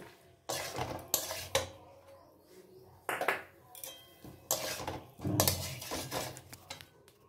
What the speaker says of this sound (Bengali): আলু দিয়ে এবার নাড়াচাড়া করে একদম সিম করে আমি এটা ভালো করে কষিয়ে নেব